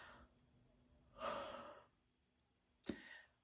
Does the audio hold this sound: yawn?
yes